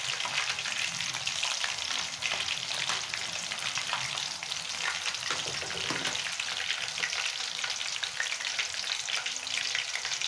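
Chicken Manchurian pieces deep frying in a kadai of hot oil, giving a dense, steady, close bubbling sizzle that stays even throughout.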